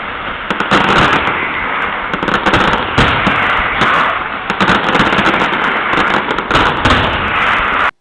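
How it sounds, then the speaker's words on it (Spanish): The Nit del Foc fireworks display at Las Fallas in Valencia rages in a dense, loud barrage of rapid crackling bangs and pops, continuous for several seconds until it stops abruptly. "Es un espectáculo pirotécnico de fuegos artificiales bastante espectacular"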